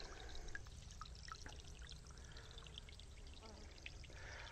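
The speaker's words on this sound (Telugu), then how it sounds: "ఇక్కడ ఒక రాయి కింద నుంచి ఫ్రెష్ వాటర్ రావడాన్ని మనం గమనించవచ్చు" Fresh spring water flows steadily out from under a rock in the Araku hills, a faint, continuous pouring and trickling sound.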